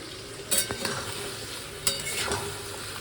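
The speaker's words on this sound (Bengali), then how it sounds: "পেঁয়াজ বাটাটা দিয়ে মিক্স করে নিলাম" A large spatula stirs onion paste in a wok with a few distinct scraping strokes over a soft, steady frying sizzle, close and fairly quiet.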